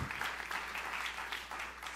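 Church congregation gives a brief burst of hearty applause during a sermon, a steady wash of many hands clapping at moderate volume and unbroken to the end.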